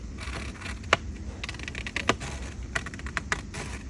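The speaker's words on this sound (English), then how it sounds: "I'm just going to cut there and cut along the score line." Scissors cutting through pink paper along a score line while making a notebook, a run of crisp snips and clicks spaced irregularly, close and moderately loud with no talking.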